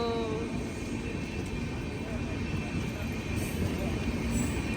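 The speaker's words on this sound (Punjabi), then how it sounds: "ਸਬਰ ਕੀਤਾ ਤੇ ਟ੍ਰੇਨ ਆ ਗਈ" Continuous low rumble and rattle of a passing train at a level crossing, steady and fairly close, with faint voices mixed into the noise.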